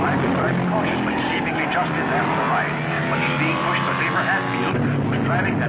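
Race cars from 1954 roar steadily around a circuit in a loud, continuous engine drone that stays dense the whole time, with a commentator talking over it.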